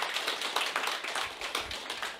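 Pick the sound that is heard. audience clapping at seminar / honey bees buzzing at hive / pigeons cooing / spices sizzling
audience clapping at seminar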